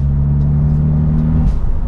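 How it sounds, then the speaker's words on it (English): A small turbocharged engine in a Ford Fiesta with a WRC kit drones at a steady pitch as revs and boost climb, then drops abruptly near the end, loud and close from inside the car. "You watch the revs go up as the boost gauge sort of comes round as well"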